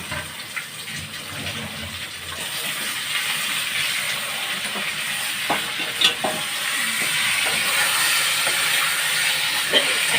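Chicken curry with yogurt sizzling and being stirred in a pan, a steady frying hiss with small scraping clicks from the stirring, moderately close and continuous with no one talking.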